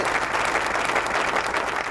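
An auditorium audience claps steadily, a dense, sustained round of applause with no voices standing out.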